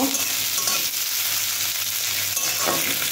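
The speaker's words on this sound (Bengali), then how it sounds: "এবার এতে আছে পেঁয়াজ আর লঙ্কা। এটাকে আমি ভেজে নেব" Onion and chilli frying in a pan, a loud continuous close sizzle with faint stirring scrapes and no talk.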